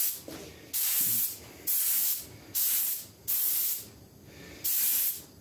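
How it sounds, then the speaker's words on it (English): A spray gun lays down a light coat of Rustoleum paint in six loud, hissing bursts of about half a second to a second each, separated by short pauses, close to the listener with no talk. "Alright, we're going to start off with a light coat"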